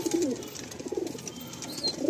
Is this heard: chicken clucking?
no